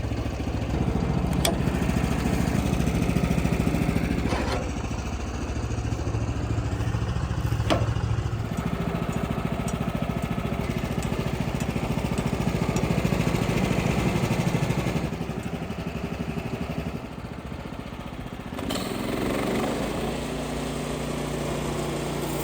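A small engine-driven sawmill runs as it cuts a log into timber, a loud steady motor drone that changes pitch and load in long stretches, with a few sharp clanks and no speech.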